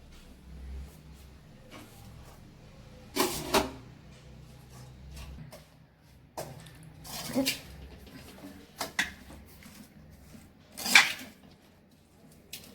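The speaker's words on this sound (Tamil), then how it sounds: "சாப்பாடு எடுத்து போட்டு கொஞ்சம் கொஞ்சமா போட்டு கிளறிக்கலாம்ப்பா" Cooked green pea mint rice is scooped and stirred in a pot, giving sporadic metallic scrapes and clinks of a utensil against the pan between quiet stretches.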